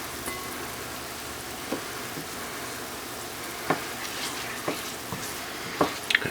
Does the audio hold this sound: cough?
no